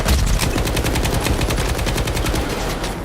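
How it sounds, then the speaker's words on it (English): PKM machine gun in STALKER 2 firing one loud, sustained automatic burst close up, the rapid rhythmic shots running steadily for about three seconds with no talk. "Yeah, PKM's good. Got a lot of recoil though."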